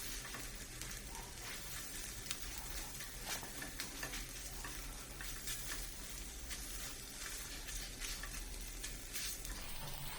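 Scrambled egg frying in a pan with a constant, dense sizzle, stirred gently from the sides now and then, the crackle steady and close throughout with faint scraping mixed in.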